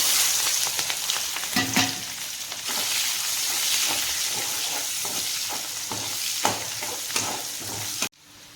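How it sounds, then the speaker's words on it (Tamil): Cinnamon, cloves and shallots frying in oil in the same pan used for a ghee fish kurma, a loud continuous sizzle with stirring clatters, cutting off abruptly near the end. "வெங்காயம் நல்லா வதங்கிடுதுங்க"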